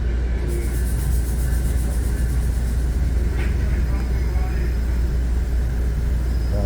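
A commuter train on the exo Saint-Jérôme Line pulls away, heard from inside as a steady, loud low rumble with a constant hiss of rolling noise that does not let up.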